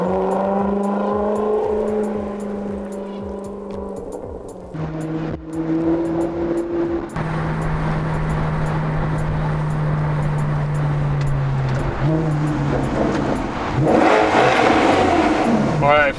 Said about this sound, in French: on n'est pas obligé de rouler vite pour profiter du bruit